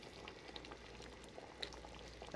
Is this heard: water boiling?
yes